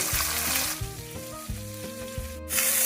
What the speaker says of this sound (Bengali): এইভাবে আমি বাকি মাছগুলো সব ভেজে নেব।